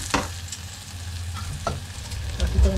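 Onion, ginger and garlic sauté in a hot pan with a soft, steady sizzle, broken by a few sharp scrapes of stirring.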